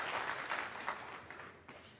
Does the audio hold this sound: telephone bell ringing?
no